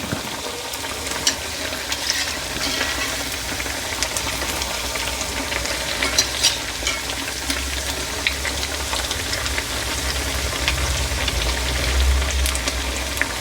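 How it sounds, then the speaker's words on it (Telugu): Sago vadas deep-fry in hot oil, a dense, continuous sizzle and crackle of bubbling oil with scattered pops, heard close up and steady throughout. "మనకి గోల్డ్ కలర్ వచ్చే దగ్గర మంచిగా వేపుకోవాలి"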